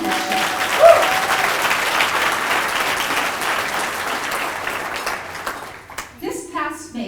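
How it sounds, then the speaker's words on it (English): An audience at an awards ceremony expo breaks into sustained applause, a broad wash of clapping that holds steady before tapering off, after which a speaker resumes talking over the room. "Give them a round of applause for their leadership."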